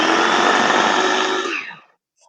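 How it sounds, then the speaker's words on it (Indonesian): A small electric mini food chopper for grinding spices whirs loudly and steadily for about a second and a half, then spins down and stops abruptly into silence. "mini food chopper atau alat untuk pemotong atau penggiling bumbu"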